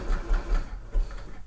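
A sewing machine runs in short, steady bursts as it stitches a sweatshirt neckline, working over a lumpy shoulder seam, the motor hum close and fairly loud with no talk.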